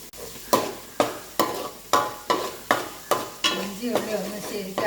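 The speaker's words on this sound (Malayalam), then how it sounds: "അപ്പോൾ അത് നമ്മൾ ഇളക്കി മൂപ്പിച്ചെടുക്കണം." Ginger and onion stir-fried in a pan for kanthari (bird's eye chilli) pickle, a spoon scraping and stirring in about nine regular strokes over a steady sizzle, close and fairly loud, with no talk.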